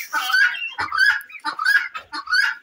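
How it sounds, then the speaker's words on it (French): Several honking calls from nearly twenty young geese on a mixed poultry farm, loud and close, coming in quick bursts with short gaps between them. "ce sont les oiseaux ici, les jeunes oies, qui sont presque une vingtaine"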